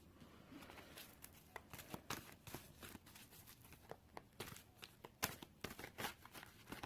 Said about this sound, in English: Man, these are hard to shuffle for some reason today.